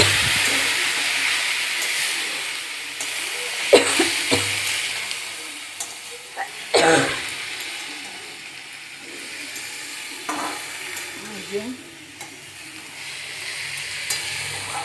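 Sizzling and steam rise as a little water goes into a hot pan of fish chorchori, with spoon stirring and scraping sounds over a continuous loud frying hiss and no talk.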